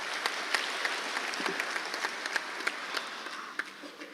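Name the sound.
applause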